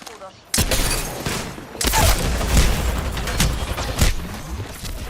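Video game gunfire as a trigger is pulled, with sharp loud bursts of shots recurring through the stretch over a dense game mix and voice chatter.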